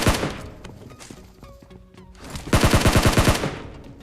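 Gunfire in PUBG Mobile knocks and finishes an enemy, with scattered shots early and then a rapid, loud burst of about ten evenly spaced automatic rounds near the end.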